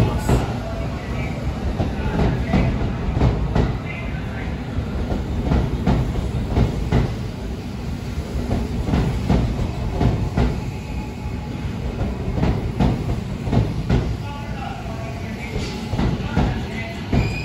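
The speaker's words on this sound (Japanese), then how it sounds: "このように折り返し列車がゆっくり入線してくるところを見ることができます" A Tokyo Metro train turning back at Kita-Senju station rumbles slowly in with steady rail clatter, metallic clanks and faint squeals, loud and close throughout, with some faint voices in the background.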